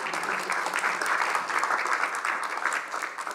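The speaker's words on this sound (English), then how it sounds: "A round of applause." A lecture audience applauds in a short burst of dense, steady clapping, fairly close and without any talk over it.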